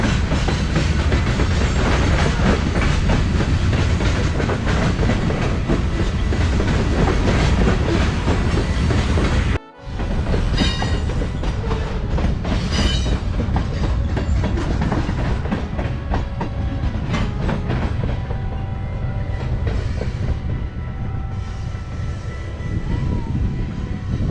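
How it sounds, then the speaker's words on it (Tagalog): A train rolls past a crossing in Jasper National Park, a loud, steady rumble with clickety-clack from the wheels that holds for the whole stretch. It drops away briefly once and then carries on. "nag-aantay lang kaming matapos tong train kasi tatawid niya kami dito"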